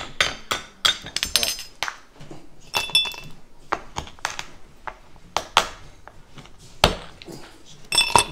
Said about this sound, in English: Let's put some ice in there.